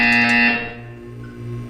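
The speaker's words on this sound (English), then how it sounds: "You will hear a buzzer." A loud, steady electronic buzzer from the video game Portal 2 sounds at full strength, then drops to a lower droning hum for the rest of the moment.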